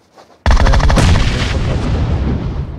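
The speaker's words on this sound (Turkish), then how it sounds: "Kanka oraya bomba salla." A grenade explodes in an online video game, a sudden loud boom after a faint lead-in, with a heavy roar that slowly rolls off over two seconds.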